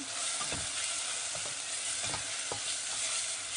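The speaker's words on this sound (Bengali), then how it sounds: "একটু নেড়ে ঢাকনা দিয়ে মিডিয়ামের চেয়ে কম আছে চিংড়িটাকে কষিয়ে নিব" Large prawns fry in a pot with a continuous close sizzle, broken by several scraping stirs of a spoon, without any talk.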